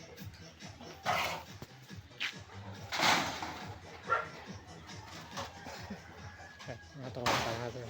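Outdoors at a junk shop where sheet metal is being loaded, a dog gives a few scattered barks, near and fairly loud, among clatter and people talking.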